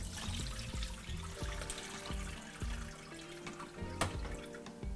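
Cooked pasta drained in a kitchen, with a watery pouring and trickling sound, drips and small splashes, close and steady over about five seconds with no talk.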